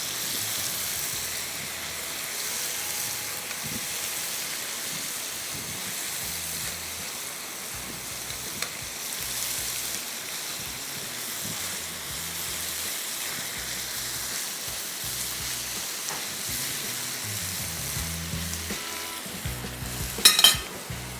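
Beef pieces for Bihari kebab frying in a pan, with a steady close sizzle throughout and occasional stirring scrapes, plus a brief clatter of the utensil near the end.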